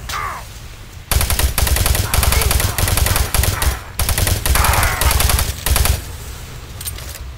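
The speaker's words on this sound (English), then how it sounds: "He was dead, but his rockets just kept coming." Rapid bursts of enemy rocket and weapon fire in Doom 3, loud and continuous in dense volleys with brief gaps, following a few seconds of quieter ambience.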